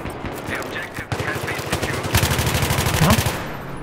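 Rapid bursts of automatic gunfire from a multiplayer shooter video game rattle in quick, evenly spaced shots that grow louder and denser toward the end, under faint in-game sound and a player's voice.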